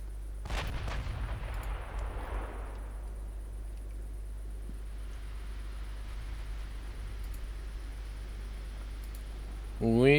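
A warship's big guns fire at long range, about 31 kilometers, in the naval game Ultimate Admiral Dreadnoughts. One heavy boom rolls into a fading rumble over a low drone, and a voice cuts in at the very end.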